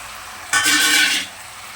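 Sweet potatoes drop into a simmering vegetable curry with boiled bean seeds, setting off a loud, close sizzle that swells suddenly over a low, steady frying hiss and fades after about half a second.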